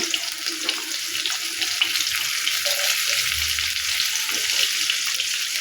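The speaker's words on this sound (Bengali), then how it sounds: "আর এই তেলেই পেঁয়াজ কুচি দিয়ে দেবো এত শব্দ হচ্ছে" Chopped onions fry in hot oil for a kanchkola and shing fish curry, giving a loud, steady broadband sizzle with faint scraping and clinks through the whole stretch and no talking.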